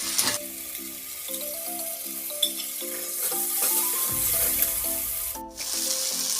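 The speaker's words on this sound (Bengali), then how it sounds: "এবার আমি এর মধ্যে পেঁয়াজ বাটাটা দিয়ে দিচ্ছি।" Onion paste hits hot oil and sizzles steadily while being stirred in a pan for chana masala, with a gentle melodic tune playing throughout the hiss.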